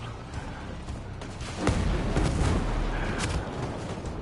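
Video-game gunfire shoots through a wall in a continuous dense rumble of booming shots and crackling impacts, loud and sustained with no pause.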